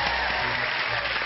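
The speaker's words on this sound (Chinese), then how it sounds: "为你们的毅力我们鼓掌" Brisk applause from a small audience on a Chinese variety stage after a push-up contest between two older men, continuous close clapping filling the whole short stretch without talk.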